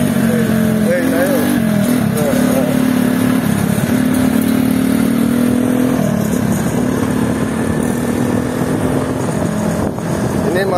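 A Honda C70 small motorcycle engine runs steadily under a heavy load of about 120 kg, a loud continuous drone with slight pitch shifts, with voices talking over it.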